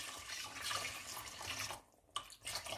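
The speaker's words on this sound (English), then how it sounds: "So you need to add enough water" Water pours from a tap into a pan of rice, a steady running splash that cuts off briefly near the end and then resumes.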